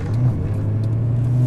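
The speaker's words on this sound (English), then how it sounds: "did you notice that right there, how jerky it was taking off?" A twin-turbo Lamborghini Gallardo tuned to over 1100 wheel horsepower pulls away jerkily from inside the cabin, its engine giving a loud, steady low drone with slight surges and no talk.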